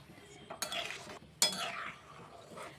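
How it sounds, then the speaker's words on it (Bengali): Vermicelli with cashews and raisins cooks in a pan as a spoon stirs it in two or three loud scraping strokes, with a soft sizzle and faint clinks between them, with no voices. "ভালো করে একটু একটু ফুটিয়ে নিচ্ছি"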